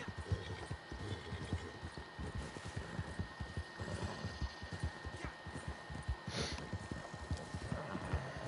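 A horse gallops flat out across desert terrain in the Red Dead video game, its hooves drumming in a fast, steady, close rhythm over a low hum, with no talk.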